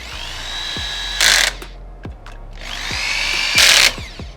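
Power screwdriver driving fender screws on a Xiaomi M365 electric scooter: two whining bursts of the motor that rise and stop, each ending in a brief louder grinding as the screw seats, with small clicks between.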